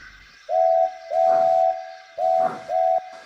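Four bright, clear steam locomotive whistle toots of varying length, loud and close, with the chuff of steam puffing between them.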